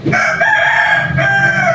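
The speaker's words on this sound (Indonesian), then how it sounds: "Itu ayam kita. Berisik sih ya." A rooster crows loudly and close, a harsh drawn-out call in two bursts.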